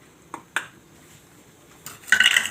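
A metal spoon scraping and clinking against a pan while milk powder barfi mixture is stirred: two sharp taps early, a quiet pause, then a louder stretch of grinding, scraping strokes at close range, with no talking.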